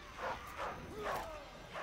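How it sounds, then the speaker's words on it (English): Dog in the Mad Max video game barking in a series of four yelping barks at a steady pace, moderately loud, over a low background rumble. "Nice dog."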